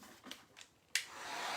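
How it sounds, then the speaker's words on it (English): A heat gun starts abruptly and blows a steady, loud rushing hiss over hot glue strings on a fall mixed media canvas, preceded by a few faint soft handling sounds. "heat gun, because somebody said that makes the glue strings go away"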